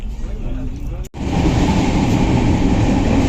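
A train rumbling along with a broad, steady low roar that surges in after a brief drop, continuous and loud throughout.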